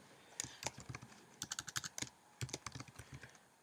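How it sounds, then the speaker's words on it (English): Fingers tap out text on a computer keyboard, close and quiet, in quick uneven clusters of crisp key clicks with short pauses between bursts. "So we're gonna say go ahead and type that stuff in."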